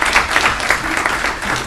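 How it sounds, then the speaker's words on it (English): Brief burst of audience applause for schoolchildren at a Haitian Heritage Month celebration, a dense clatter of many hands clapping fairly close throughout. "give these kids a round of applause"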